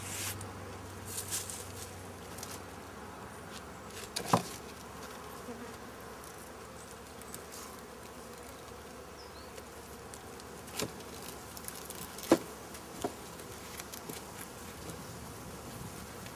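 Honeybees from an opened hive drone in a steady, quiet, continuous hum, with occasional faint clicks and knocks from the beekeeper's handling.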